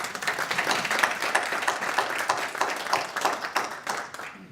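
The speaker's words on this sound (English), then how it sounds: "I think she deserves a round of applause" Sustained applause from a meeting audience at a Rotary Club forum honouring President Guthrie, dense overlapping clapping holding steady throughout before tapering at the end.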